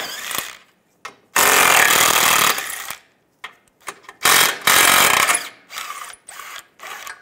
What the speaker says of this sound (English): Now we're going to take these 3 bolts out using a 13mm socket.